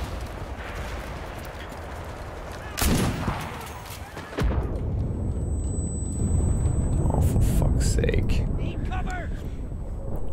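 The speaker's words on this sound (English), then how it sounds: "Everything's exploding all the time." Gunfire and explosions in the Enlisted World War II shooter game, a dense continuous wall of blasts and shots with loud bursts, full and close, with voices talking over the battle.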